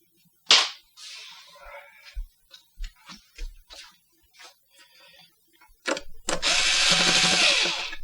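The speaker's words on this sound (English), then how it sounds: "I need a screwdriver." A hand tool fastens an Acer G276HL monitor stand, giving scattered clicks and taps that end in a sustained rough grinding burst, fairly close.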